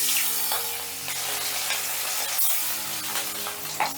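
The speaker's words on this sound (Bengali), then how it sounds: "এবারে মাছগুলো ভেজে নিচ্ছি" Pieces of katla fish fry in hot oil in a pan with a steady, loud sizzle and crackle. Brief stirring sounds come through near the end.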